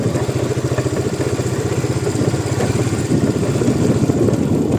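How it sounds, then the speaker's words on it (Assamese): A motorcycle rides across a village field, its engine chugging in a rapid, even rhythm, loud and close throughout with no talk. "পথাৰত এনেকৈ বাইক কোনে চলাইছে"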